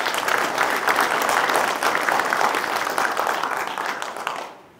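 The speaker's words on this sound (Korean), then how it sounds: "토론해주신 그 고마움으로 박수 부탁드립니다" An audience at a Jirisan peace and life forum applauds steadily for about four seconds, a dense, even roar of clapping that fades out at the end.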